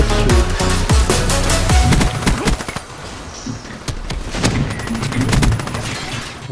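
Loud, dense gunfire from Black Ops 3 play, with rapid overlapping bursts and single shots firing almost without pause for the whole stretch, staying close and heavy throughout.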